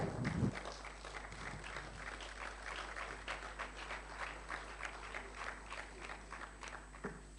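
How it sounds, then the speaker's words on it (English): Audience applause at a 2019 Nigerian youth presidential debate, a steady dense clatter of many hands filling the hall throughout, continuous and fairly even in loudness. "Yes, you can clap."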